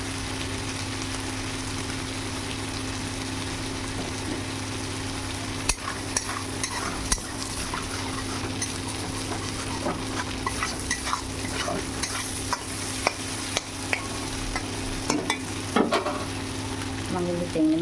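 Prawns frying with potatoes in a pan, a continuous close sizzle over a low steady hum, broken by irregular scraping knocks of a spatula stirring through the pan.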